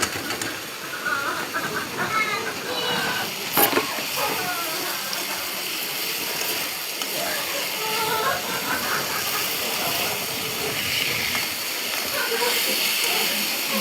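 Meat frying in spice paste gives a steady close hiss and sizzle, with a voice talking faintly now and then.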